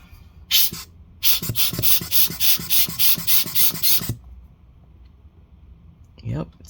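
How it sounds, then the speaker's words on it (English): Air is blown in repeated short bursts into a Razer Blade 15 laptop's repaired cooling fan, giving a rapid series of close, rasping puffs after one or two initial blows, followed by a quieter breathy sound. "I'll actually test it real quick by blowing it again."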